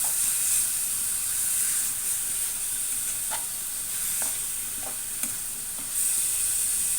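Onion paste frying in a pan for chicken curry, a loud continuous sizzle with intermittent spatula scrapes and small pops, close and unbroken.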